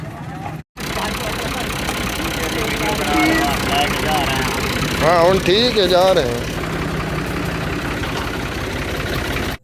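A tractor engine idles and runs with a steady, loud low rumble throughout, with someone talking briefly over it.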